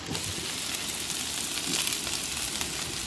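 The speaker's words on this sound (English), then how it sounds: "Bacon cooking on the Blackstone." Bacon sizzling on a Blackstone griddle, a constant bright crackling hiss with scattered pops, close and even throughout, with no talking.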